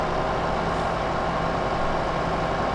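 Tractor driving along a farm track in Farming Simulator 2015, a steady loud droning engine rumble with no breaks and no speech.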